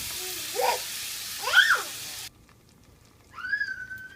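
Ground tomato paste hits a hot pan for an Indian egg curry (muttai kuzhambu), giving a steady broadband sizzle for about two seconds that then cuts off abruptly, with a few faint tonal chirps afterward.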